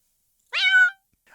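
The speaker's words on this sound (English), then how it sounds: "They're this small meow that I found." A single short cat meow, clean and isolated against silence, rising and holding briefly before fading, with a faint onset of another sound at the very end.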